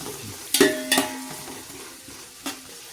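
Onions sauté in a pan under a soft, continuous sizzle, with a few distinct clinks of a metal spoon against the pan, two close together early and one more later.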